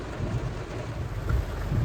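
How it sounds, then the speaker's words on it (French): Heavy rain pours on a car while driving near Valladolid, Mexico, a dense, loud roar with low rumbling and wind buffeting, steady throughout, no voices. "là, il pleut à mort."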